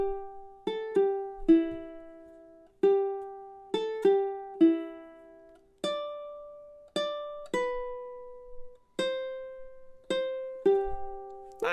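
Silent Night melody plucked on a high G ukulele, single clear notes ringing and decaying one after another in a slow, gentle rhythm, close and alone without talking.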